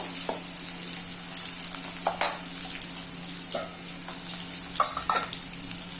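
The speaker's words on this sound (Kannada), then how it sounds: "ಇದು ಸ್ವಲ್ಪ ಚೆನ್ನಾಗಿ ಫ್ರೈ ಆದ ತಕ್ಷಣ ಇದ್ರಾಗುತ್ತೆ ಸ್ವಲ್ಪ ಒಗ್ಗರಣೆ ತೆಗೆದು ನಾನು ಸಾಂಬಾರಿಗೆ ಹಾಕ್ತೀನಿ." Green chillies and onions fry in hot oil as tempering for bassaru sambar. A steady close sizzle runs throughout, broken by a few clicks of stirring, with no talk.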